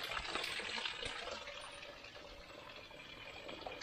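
Irrigation water piped down from a higher source in the province, a continuous splashing gush of running water, close by and steady, with no talking over it.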